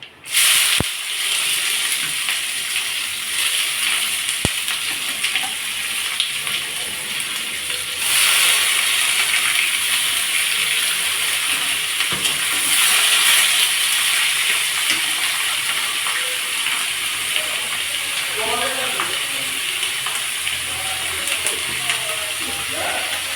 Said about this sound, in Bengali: ওগুলো একটু ভাজা হলেই আমি দিয়ে দিলাম পেঁয়াজ কুচি।